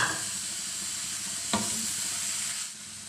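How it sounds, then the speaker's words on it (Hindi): Grated radish, green chilli and tomato sizzle steadily in a pan over low heat, a continuous close frying hiss with a single brief clink midway. "मीडियम बिल्कुल लो आंच में मैं पकाएंगे खुशबू आने तक"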